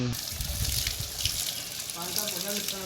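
Water flows steadily down from the hill at the Barunei shrine, a continuous close rushing and gushing like an open tap, with a voice talking over it.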